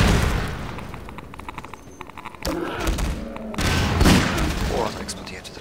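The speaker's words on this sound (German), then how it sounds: "Oh, da explodiert wieder alles." Explosions and gunfire in the video game Half-Life 2 Episode Two, several sharp booms and thuds in quick succession over a dense, noisy battle background, with a voice talking over parts of it.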